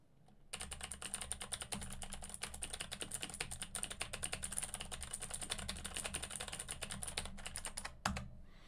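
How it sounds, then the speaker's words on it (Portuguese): Rapid, steady typing on a computer keyboard sitting on a desk, dense clicking keystrokes continuing for several seconds close up, ending with a single louder key tap. "o quanto que ele capta do barulho ou do ruído do teclado com o teclado sobre a mesa"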